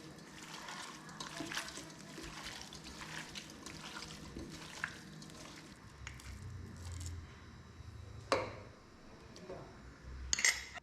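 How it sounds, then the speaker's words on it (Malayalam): Water is poured into a pot of beef curry, a quiet trickle and splash with soft clinks of the pot and utensils at close range. "കുറച്ച് ബീഫ് ഉള്ളതുകൊണ്ട് ഇച്ചിരി വെള്ളം ചേർക്കണം എന്നുള്ളതാണ്"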